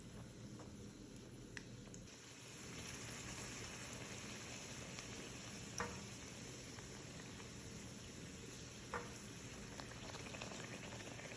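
Sliced bread fries in hot oil, giving a faint, steady crackling hiss with a few sharper pops scattered throughout.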